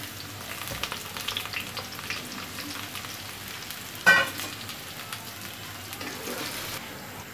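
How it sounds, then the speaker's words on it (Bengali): Chopped garlic frying in oil for red amaranth greens, a soft steady sizzle close by with a brief sharper clink near the middle, no voices. "দিয়ে দিব এখন রসুন কুচিগুলো"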